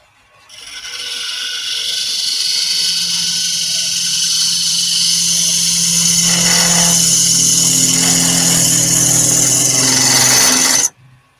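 A wood lathe spins up and holds a loud, steady high-pitched whine with a lower hum underneath while a tool cuts end grain, the tone shifting slightly mid-cut before the motor abruptly stops.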